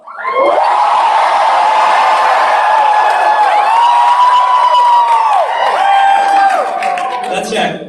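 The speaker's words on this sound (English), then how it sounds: "I want to give you your best cheer that you can" An audience at an election-day event gives its loudest cheer on cue, a sustained wall of shouting, whooping and screaming voices that holds for several seconds before tapering off.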